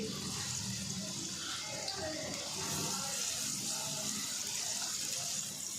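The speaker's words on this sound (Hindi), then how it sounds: "ऑयल गर्म हो चुका है, अब इसमें प्याज डाल देंगे।" Onions sizzle in hot oil in a kadai, a faint, steady hissing crackle that runs without a break.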